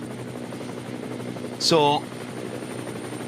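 A helicopter flies over the Nürburgring during a 24-hour qualifying race, its steady drone running throughout beneath a brief spoken word.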